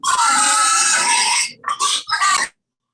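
A pig being slaughtered nearby gives a long, loud, shrill squeal, then two shorter squeals in quick succession before it cuts off. No talk is heard over it.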